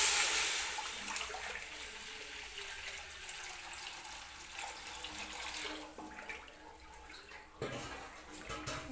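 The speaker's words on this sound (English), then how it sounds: "And then you add in your water." Water is poured into a chicken marinade, a soft continuous splashing and trickling stream heard close and quiet, fading and pulsing slightly as it flows, with no talking.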